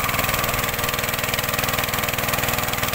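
A small water pump engine runs steadily for irrigating a rice paddy, close and loud, with an even rapid chugging pulse and no talk.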